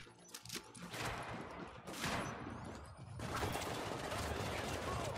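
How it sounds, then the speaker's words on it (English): Gunfire in The Division video game, a rough burst and spread of shots blending into a dense clattering wash, moderately loud, with quieter spells between heavier stretches. "Felt like a shotgun from long range."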